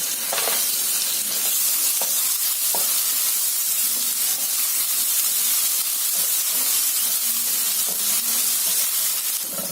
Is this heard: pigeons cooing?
no